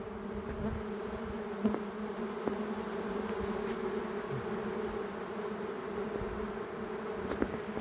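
Honey bees buzz steadily at an open hive during queen rearing work, a dense continuous drone close by with a few brief louder passes of individual bees flying near.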